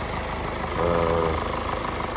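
A steady diesel engine of a 2018 Mercedes idles close by, a low continuous rumble with faint knocking texture and a brief tonal hum partway through.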